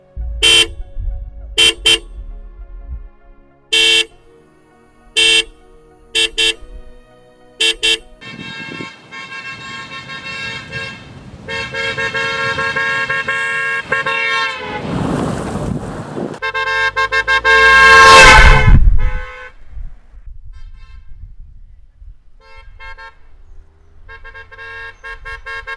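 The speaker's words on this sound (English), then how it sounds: "I can't stop telling you how loud this horn is." A loud aftermarket horn fitted to a Tata Tigor car sounds repeatedly: first several short separate honks, then longer sustained blasts, close to the microphone, with wind noise in between and no speech.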